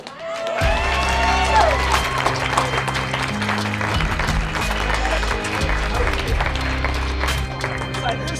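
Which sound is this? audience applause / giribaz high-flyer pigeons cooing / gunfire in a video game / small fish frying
audience applause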